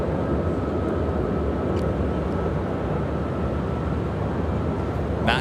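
A jet departing Chicago O'Hare Airport rumbles as a broad, steady roar, sustained and fairly loud throughout with no voices.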